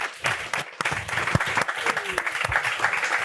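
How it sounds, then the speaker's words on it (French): A studio audience at a French talk show applauds, a dense wash of clapping with a few sharp individual claps standing out, moderately loud and steady, with faint voices mixed in. "applaudissez-vous parce que vous êtes avec nous, on vous sent pas"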